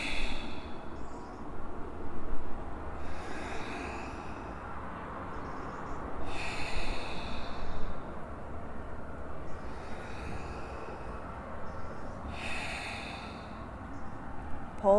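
Slow exercise breathing: deep inhales and long exhales in an unhurried rhythm, soft and close over a constant low background rumble.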